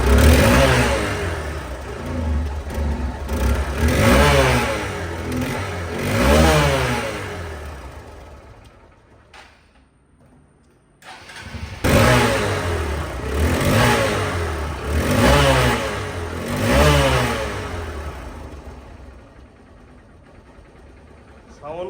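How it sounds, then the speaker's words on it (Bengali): A second-hand Hero Hunk double-disc motorcycle engine revs up and down in repeated surges, roaring loudly, then cuts out briefly before revving again in several more bursts. "এই বাইকটির সাউন্ড কোয়ালিটি একদম নতুনের মতো"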